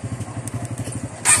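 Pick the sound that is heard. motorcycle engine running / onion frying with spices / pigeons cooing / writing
motorcycle engine running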